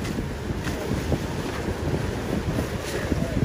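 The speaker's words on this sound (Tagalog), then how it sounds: "Maulan pa rin at malakas pa rin yung hangin, malalaki pa rin yung alon hanggang sa mga oras na ito po." Strong wind buffets the microphone over rough open water with large waves during rain, a steady loud roar of gusts and churning water with no voices.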